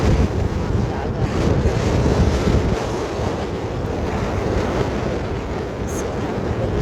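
Strong gusting typhoon wind roars across the microphone over the constant wash of breaking sea waves, loud and continuous throughout.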